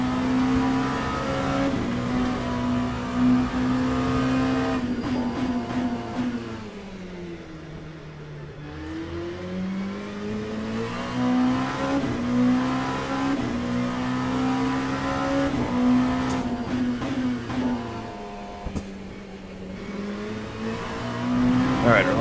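LMP2 and GTE race car engines at Sebring in Le Mans Ultimate, a loud close engine note revving up and down through gear changes as cars pass a Ferrari, steady and continuous throughout.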